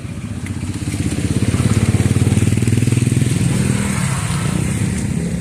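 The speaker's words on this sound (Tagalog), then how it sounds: "Ito na pala yung motor namin." A motorcycle engine runs steadily nearby with a rough, pulsing idle that swells slightly louder midway, then settles.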